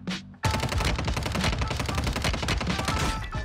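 Kar98k rifle fire in the mobile shooter game Warzone Mobile: a sharp onset followed by dense, sustained rapid gunfire and crackling battle noise, loud and continuous for several seconds.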